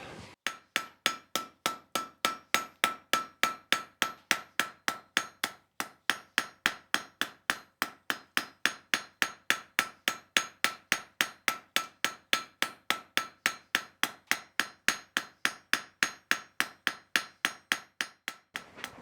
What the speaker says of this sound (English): Light hammer blows all the way down to a black heat really help smooth this out